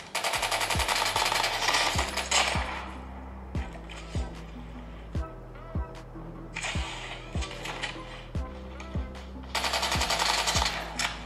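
Rapid gunfire bursts from a mobile shooter game played on a Realme GT Neo 5, sharp repeated shots in a steady rhythm alongside loud hissing game effects, played through a small phone speaker.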